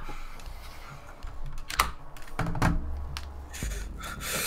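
Computer keyboard keys clack in quick irregular bursts as hotkeys are pressed during a Rainbow Six Siege session, close and fairly loud, with a few heavier thumps and no talking.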